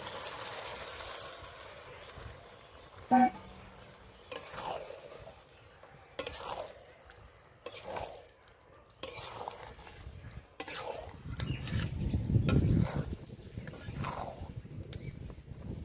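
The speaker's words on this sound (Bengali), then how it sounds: "আলু আর খাসির তেল দিয়ে ভালো করে কষে নিয়েছি এইবার দিয়ে দেবো মটরগুলো" Potatoes and peas stir-fried in mutton fat for ghugni, heard as a faint sizzle broken by separate scraping strokes of a spoon in the pan, growing busier and louder toward the end.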